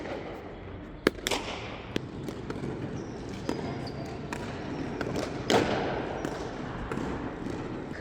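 A soft fronton pelota ball bounces, giving a few faint, dull knocks against a steady background of room and court noise.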